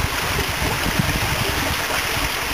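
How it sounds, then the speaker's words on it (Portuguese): Steady broadband rush of a 45-metre waterfall in Tajuva canyon, a continuous roar of falling water heard close by without talk. "Então essa é a quarta cachoeira, né?"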